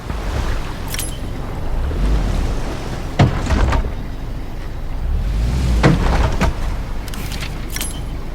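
Low idling boat engine rumbles steadily in Hell Let Loose Vietnam as the craft pulls up to a dock, with water sloshing and a few sharp clanks and knocks scattered through the hum.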